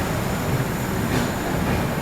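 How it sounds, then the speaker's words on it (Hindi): Arunachal AC Superfast Express passenger train rolling at speed through Gonda Junction without stopping, a steady loud rumble of wheels on rails heard from on board, with faint rhythmic clatter under the continuous roar. "अपनी ट्रेन ने जो है स्किप कर लिया है गोंडा जंक्शन को।"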